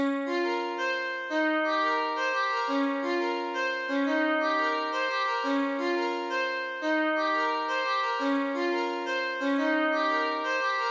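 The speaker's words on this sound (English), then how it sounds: "I found this preset in Alchemy called the Real Fake Santur," A melody played on the Real Fake Santur preset in Logic's Alchemy synth for a hip hop beat: plucked, bright struck-string notes with long ringing tails, continuous and loud, alone without drums or voices.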